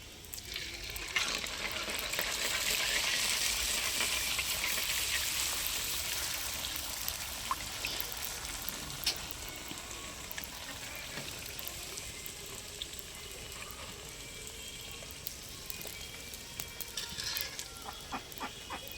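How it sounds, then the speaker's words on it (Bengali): Puchka (panipuri puris) frying in hot oil, a steady bright sizzle that swells early and then settles, with occasional soft stirring scrapes from a ladle and no talking. "দেখো আমি ফুচকাটা বেজে নিচ্ছি"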